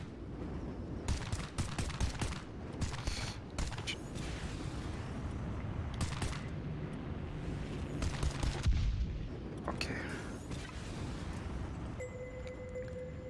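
Bursts of rapid automatic gunfire blast from an aircraft shooting down enemies in the VR flight game Ultrawings 2, with loud rattling volleys, mechanical clatter and engine drone, and no voices.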